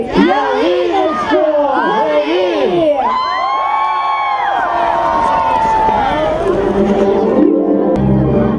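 A crowd, children among them, shouts and cheers loudly and continuously as the town New Year tree in Lubny lights up at a winter holiday celebration, with rising whoops throughout.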